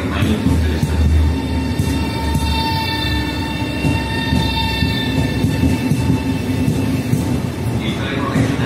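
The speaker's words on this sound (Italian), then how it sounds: "Il treno regionale veloce di Trenitalia proveniente da Verona Porta Nuova in direzione da Venezia Santa Lucia" A Trenitalia regional train rumbles and rolls through Venezia Mestre station with steady mechanical noise, sustained tonal whines and squeals, while a station announcement plays over the platform.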